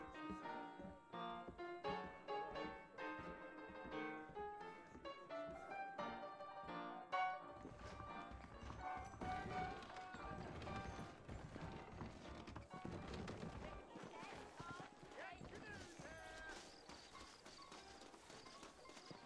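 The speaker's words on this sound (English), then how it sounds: "Okay, time to learn how to ride a horse again." Horse hooves clip-clopping in Red Dead Redemption, a light rhythmic clatter under musical score, with gear-like clicks and rattles in the mix; no talk.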